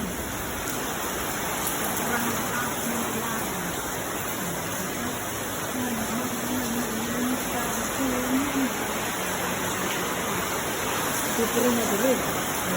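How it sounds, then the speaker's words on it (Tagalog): Heavy rain pours down in Singapore, a steady wash of hiss with water splashing, while a person speaks quietly over it. "napakalakas ng ulan ng Singapore"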